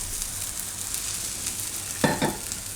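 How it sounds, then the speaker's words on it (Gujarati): Mung bean uttapam cooking in oil on a pan, a steady moderate sizzle with two short louder scrapes or pops near the end, no talk. "હવે એને ફેરવી લેવું આપણે અને બીજી બાજુએ પાકવા દેવું"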